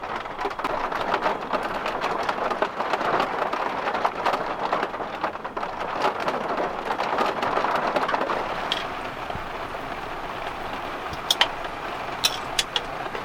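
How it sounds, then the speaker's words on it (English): Hail drums on the roof of a camper van during a heavy storm in the Norwegian backroads, a dense, continuous close patter with a few sharper isolated hits near the end. "This is hail, actually."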